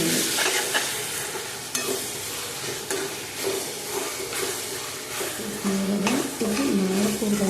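A spoon scrapes and stirs a spicy masala mixture for spaghetti pasta in a frying pan, clattering in rhythm over a constant loud sizzle, while a voice talks faintly in the background.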